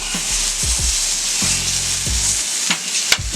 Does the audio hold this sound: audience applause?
no